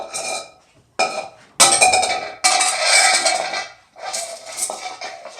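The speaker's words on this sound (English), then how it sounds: "Made a loud scraping noise." A hard measuring cup scrapes and clatters across a floor in several loud bursts separated by short pauses, harsh and close.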